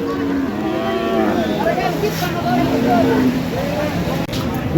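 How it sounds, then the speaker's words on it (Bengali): Several cattle moo repeatedly, long low calls overlapping amid a busy outdoor crowd with people talking in the background, at a rain-muddied cattle market in Kaitla, Mirzapur, Tangail, Bangladesh. "প্রচুর গরু উঠেছে"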